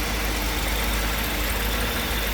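A 1989 Mercedes-Benz 560 SL's 5.6-litre engine idling with the hood open, a close, loud and smooth steady rumble with no talking over it.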